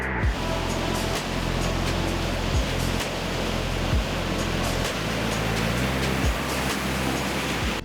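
Buendick Falls pours furiously in the Grampians, a steady broadband rush of falling water filling the scene evenly, with occasional low thuds beneath and no talking.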